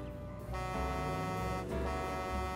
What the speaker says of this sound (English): I'm thinking I can just sit here and honk, and they'll probably come out running to me.